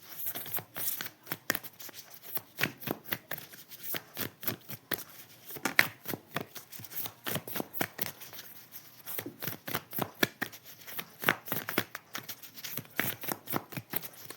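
Tarot cards are shuffled by hand in quick, irregular bursts of crisp riffling slaps and flutters, close up and fairly quiet, with brief pauses between rounds and no talk.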